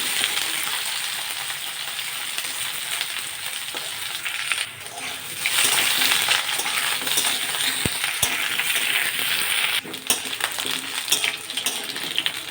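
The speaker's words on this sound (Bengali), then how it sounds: "আলুগুলোকে ভালো করে ভেজে নেব" Potato pieces fry in oil for a soyabean muithya dish, a constant close sizzle that swells louder partway through, punctuated by occasional metallic clinks and scraping stirs.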